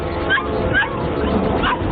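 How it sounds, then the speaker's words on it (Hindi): A dog barks at something beneath a house, giving three short, yipping barks about half a second apart and then after a longer pause, close by over a steady low background rumble. "घर के नीचे किसी पर भौंक रही है।"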